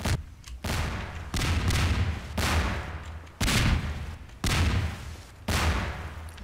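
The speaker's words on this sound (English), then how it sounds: "Somebody's just exploding stuff." Explosions and gunfire in the game Garry's Mod: six loud, booming blasts of roughly a second each, every one followed by a brief lull.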